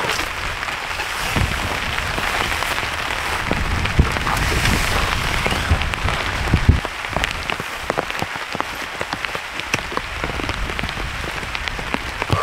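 Heavy rain driven by strong wind pelts a car and a tent during a storm, a loud, dense, continuous patter with scattered sharper drops and no talk over it.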